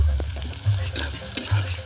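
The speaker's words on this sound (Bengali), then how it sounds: "পেঁয়াজটাকে হাফ ভাজা করে নিয়েছি।" Onion sizzling in a pan with bay leaves while a spoon stirs and scrapes through it, with a few louder stirring strokes over a steady fry.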